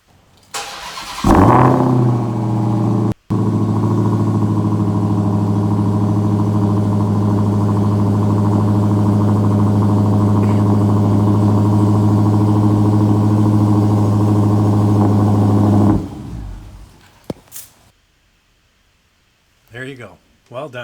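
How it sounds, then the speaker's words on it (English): A Dodge Hellcat engine cranks and fires at about one second, settling into a loud, steady, deep idle that runs for roughly fifteen seconds before cutting off, followed by a few faint voices. "And this is what a Hellcat sounds like when you start it up."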